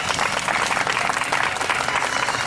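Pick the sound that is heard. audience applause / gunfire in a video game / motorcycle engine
audience applause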